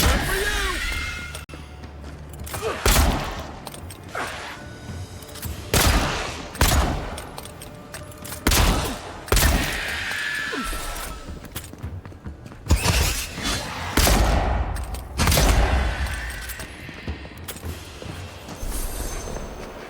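Bursts of gunfire ring out in the video game Avowed, repeated sharp shots and short volleys in an uneven rhythm, with a voice speaking between and over some of the shots.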